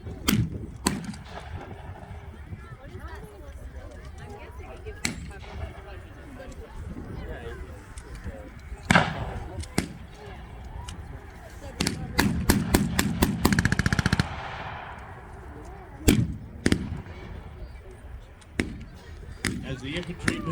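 Blank rounds fired during an infantry fire-and-maneuver drill at a WWII Operation Anvil reenactment in Bowling Green, Kentucky: scattered single sharp reports, then a fast cluster of shots, over outdoor crowd murmur with people talking.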